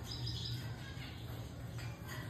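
Small yellowback Gouldian finches chirp softly and steadily, thin high calls repeating through a faint, constant background hum, with no voices present.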